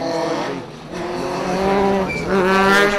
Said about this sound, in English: And this is the first of our R2 cars coming.